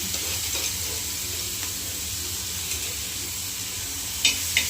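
Crushed green chilli sizzling in hot oil in a pan for a Navratri fasting dish, a steady close hiss throughout with light stirring scrapes and a couple of sharp taps near the end.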